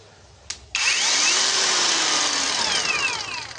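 A cheap BOERTE cordless angle grinder, rated around 8000 rpm, clicks on after a short blip and spins up to a loud, steady high-pitched whine that holds close and alone.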